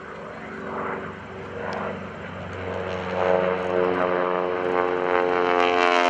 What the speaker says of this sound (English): I was letting you listen to the roar of his engine as he went by